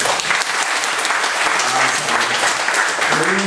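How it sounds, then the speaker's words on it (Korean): A church congregation applauds at a Sunday morning service, a dense, steady wash of clapping that holds at full strength for the whole stretch with no talking over it. "우리 박수 한번 해주시죠."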